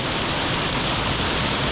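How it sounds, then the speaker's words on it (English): Heavy rain pours down in a Macau alley like a waterfall, a dense, loud, unbroken roar of water filling the whole moment with no voices. "so it looks like we're not going to be going anywhere. Too much rain."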